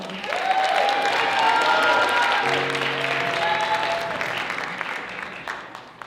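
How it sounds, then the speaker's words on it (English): An evening show audience applauds a young alumnus, a warm steady wash of clapping with sung or sustained vocal tones over it early on, fading gradually toward the end. "can I have everyone give a big round of applause for Francisco?"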